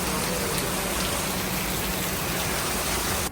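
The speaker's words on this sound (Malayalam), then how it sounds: "പെരും മഴ." Heavy rain pours during a motorbike trip through Kerala, a dense, loud, unbroken hiss of rainfall close by, with no voices.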